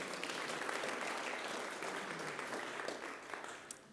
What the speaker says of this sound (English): another round of applause for our UK team who are here tonight